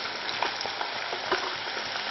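Chopped onion frying in a hot pan for fish pollichathu, a dense continuous close sizzle with a few soft stirring knocks, loud and steady across the short span.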